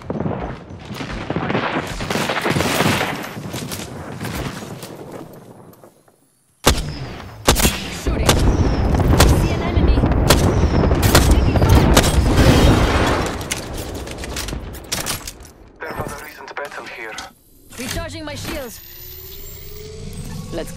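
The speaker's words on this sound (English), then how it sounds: "Grenade." Apex Legends match with a grenade blast and bursts of gunfire, loud and chaotic booms and rapid shots, a brief silent gap midway, with voice callouts over the action.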